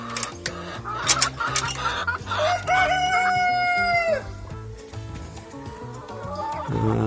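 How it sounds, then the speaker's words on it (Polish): Chickens cluck and squawk nearby, with a long drawn-out crow in the middle, over a steady background hum. "Kury wyszły, nawet nie mokre"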